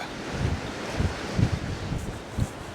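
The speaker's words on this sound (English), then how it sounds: "But that's, wind's picking up." Wind picking up over Poole Harbour while fishing from a boat, a steady rushing buffet of wind against the microphone with low gusting thumps and a faint wash of water beneath.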